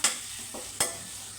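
Tomato pieces fry in a pan, cooking down to a soft pulp for a catering-style cabbage curry; a steady sizzle runs throughout, with two sharper scraping stirs, one at the start and one near the middle.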